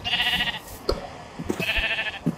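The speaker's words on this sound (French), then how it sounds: "oh oui, du mouton." Sheep in the video game Minecraft bleat twice, two clear wavering calls separated by soft thuds and footsteps, with no talking over them.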